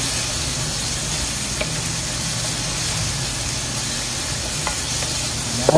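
Shrimp paste (alamang) frying in a pan for pakbet, a steady, close sizzle with faint stirring and scraping that stays even from start to finish.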